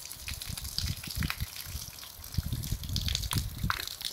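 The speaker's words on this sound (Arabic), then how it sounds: "دابا غير الماء هذا يدوس" Water gushes and splashes in uneven, fairly faint bursts over about four seconds, with no talking.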